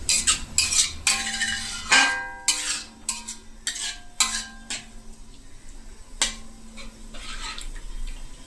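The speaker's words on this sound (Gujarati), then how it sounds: "આ રીતનું સતત હલાવ્યા રાખવાનું, જેથી કરીને તળિયે બેસી ન જાય." Milk is stirred continuously in a pan on a low gas flame while making khadim pak, a Mangrol sweet. A metal spoon scrapes and clinks against the pan in quick irregular strokes, close and clear, with no talk.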